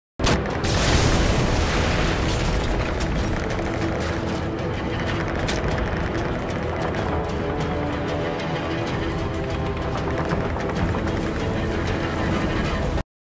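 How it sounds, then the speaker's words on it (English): Grenade blast against a Humvee in Call of Duty: Modern Warfare 3, an explosion opening into a long, dense roar of rumbling combat noise that holds steady and loud for over ten seconds. "launch a grenade at the Humvee to kill its occupants and the guy who's usually beside it"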